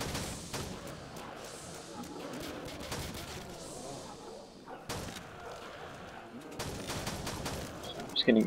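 M16 rifle fire in a Call of Duty zombies custom map: scattered shots and short bursts over a busy game background, moderately loud, with a voice talking along.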